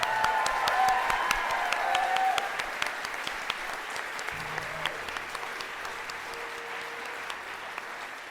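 Audience at a school science fair opening ceremony applauding, a dense steady wash of many hands clapping that eases after a couple of seconds and carries on more thinly to the end, with a few scattered louder claps.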